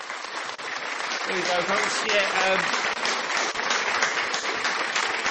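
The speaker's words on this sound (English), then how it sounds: "I think deserves a round of applause for that one." An audience applauds in a dense, steady wash of clapping that swells slightly and holds throughout, with a voice speaking briefly over it.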